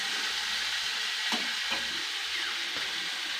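Lentil dumplings (bori) fry in a pan with a steady, fairly quiet broadband sizzle, broken by a few soft clinks or stirring knocks; no one speaks.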